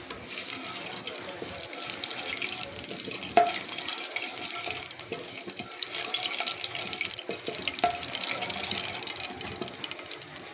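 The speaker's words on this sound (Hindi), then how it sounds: "ज़ीरे को थोड़ा सा हम फ्राई करके इसमें मसाले ऐड करेंगे।" Cumin seeds frying in hot oil in a kadhai give a steady, close sizzle and crackle, with a couple of sharp pops along the way.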